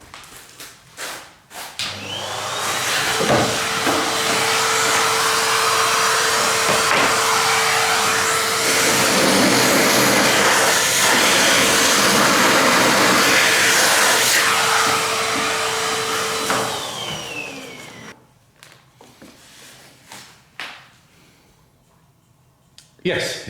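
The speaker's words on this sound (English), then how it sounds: "Let's see whether we can vacuum that out." A vacuum cleaner draws a leather sliver out of a pipe in an 1865 Forster & Andrews organ under restoration. It switches on with a loud, steady whining roar, runs for about fifteen seconds, then winds down to quiet handling noises.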